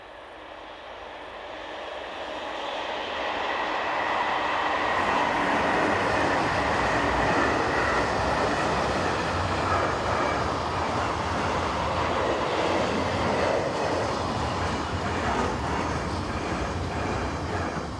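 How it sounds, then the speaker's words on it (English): A diesel locomotive, number 4014, hauls a northbound train of tank wagons past on a European railway, a steady loud rumble that swells within a few seconds and holds as the long train rolls by. "There was a flurry of northbound activity with diesel number 4014 following just a few minutes later with another trainload of tank wagons."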